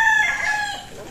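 Red Game Farm gamefowl stags crow and cluck close by, a rooster's drawn-out crow sustained for about a second against a faint background of other birds.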